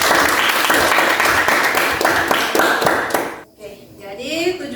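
Classroom applause from a group of students, a dense burst of clapping for about three seconds that stops abruptly, followed by quieter room sounds and a teacher's voice speaking.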